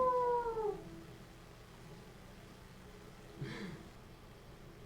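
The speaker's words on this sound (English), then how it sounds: "As you're traveling, you do hear just kind of a howl in the distance." A lone wolf howls in the distance within a video game, a long wavering tone at the start that fades out over a quiet ambient backdrop, followed later by a brief soft rustle.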